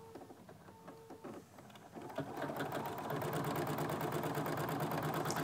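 An embroidery machine begins stitching quilt fabric, faint clicks giving way to a loud, rapid, steady mechanical chatter that builds after a couple of seconds and runs on evenly, close up and without talk.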